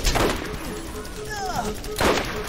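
Two heavy gunshot booms in the Borderlands video game, one at the start and one near the end, with faint chirpy game tones in between.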